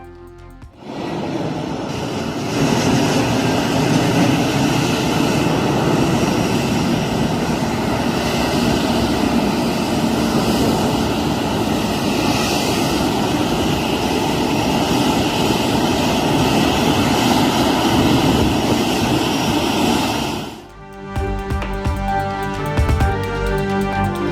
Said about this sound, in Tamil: தாய்லாந்திலிருந்து சென்னைக்கு முதல் முறையாக வந்த கார்கோ விமானம்